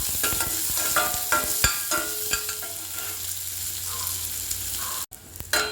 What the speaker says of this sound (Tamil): இனி நமக்கு வெங்காயம் போட்டு வெங்காயமும் அதே மாதிரி நல்லா வறுத்தெடுக்கணும்.